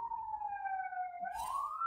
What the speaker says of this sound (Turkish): İlla ki mutlaka her videomda bir ambulans sesi ya da bir itfaiye sesi duyuyorsunuzdur.